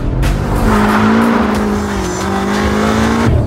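A BMW M5 F90 drifts sideways with loud, sustained tire squeal over a steady engine drone, holding one continuous screech for about three seconds with no speech.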